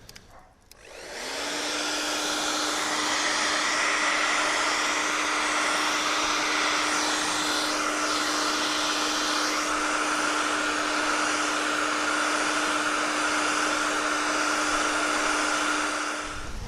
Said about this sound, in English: We're going to start by heating up the badge just to soften up any adhesion for the badge and make it easier to come off.